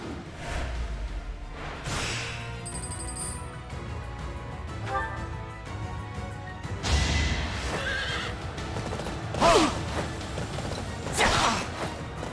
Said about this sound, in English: I do like the horses in this game.